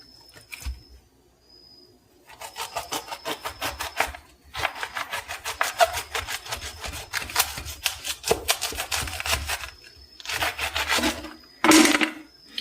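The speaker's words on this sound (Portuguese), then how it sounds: "Nós vamos simplesmente cortar esse repolho ao meio." A knife cuts through a medium head of cabbage, halving it for blanching and freezing: repeated crisp, crunchy sawing strokes in several bursts with short pauses, close and moderately loud, ending in a sharp final cut.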